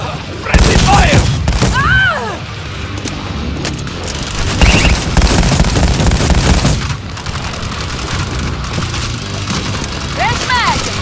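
Dense gunfire from the zombie shooter World War Z Aftermath, Rome chapter, with rapid automatic bursts and single cracks layered together continuously, loud and close, while game voices shout over the battle.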